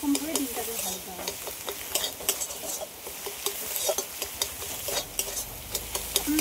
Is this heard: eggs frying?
yes